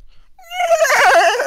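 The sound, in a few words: person imitating a horse neigh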